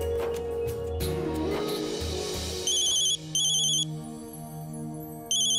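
After some muffled background noise, an electronic phone ringtone starts, repeating in bright pulsing bursts with short gaps between rings.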